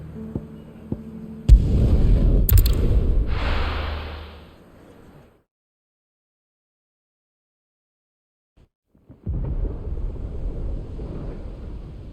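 Thunder in Final Fantasy XVI, a sudden crack followed by a long rolling rumble that fades into silence, then another low rumbling swell returns several seconds later.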